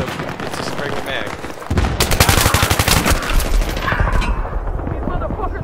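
Rapid bursts of LH6A2 assault rifle fire in Battlefield 3 on the Noshahr Canals map, loud and close, with sustained automatic fire in the middle and mixed battle noise and voices around it.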